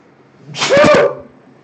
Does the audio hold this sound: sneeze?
yes